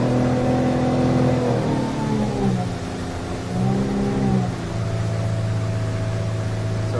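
A Hewescraft 190 Searunner boat driven by a Yamaha F200 outboard accelerates toward planing speed, the engine droning loud and steady with a tone that wavers and dips mid-run, then settles into an even cruise.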